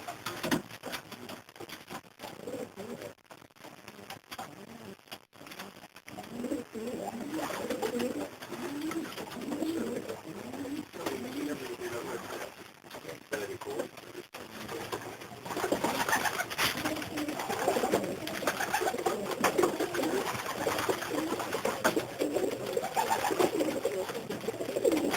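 Racing pigeons coo steadily in a loft, a soft layered murmur of many birds with occasional wing shuffles and light knocks.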